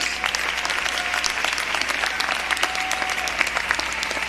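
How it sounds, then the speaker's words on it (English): Applause from a crowd at a university commencement ceremony, many hands clapping steadily with a faint tone and hum in the background. "Give them a round of applause."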